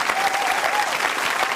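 A studio audience on a live television show claps in a dense, steady round of applause, loud and close throughout.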